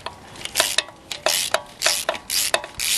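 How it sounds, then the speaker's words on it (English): A ratchet wrench clicks and rasps in repeated short strokes as it works on a rusted bolt, with a steady back-and-forth rhythm at moderate distance and no talking. "Fighting with the camera on the ratchet."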